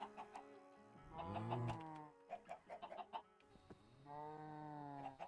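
Minecraft chickens in a modded survival game give repeated clucking calls in two drawn-out bursts, with scattered soft game effects between them. The sound is fairly faint and there is no talk.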